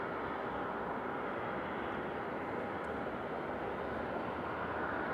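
A UPS Boeing 767 heavy jet on approach at Raleigh-Durham International Airport, its engine roar a steady, broad rumble held at constant loudness throughout with no voices.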